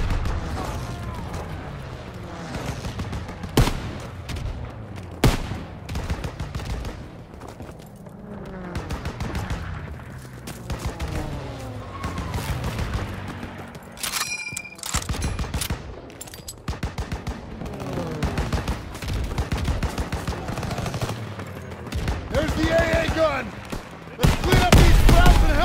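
Gunfire and an anti-aircraft flak gun in the WWII video game Operation Cobra, with loud bursts of automatic fire, sharp single shots and distant booms running continuously, while voices shout over the battle.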